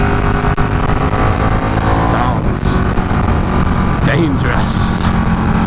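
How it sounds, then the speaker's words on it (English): Ducati Panigale 899 motorcycle ridden along the Devil's Backbone road in rural Texas, a steady loud engine drone with wind rush running throughout, one speaker talking over it. "Riding the Devil's Backbone on a Ducati Panigale"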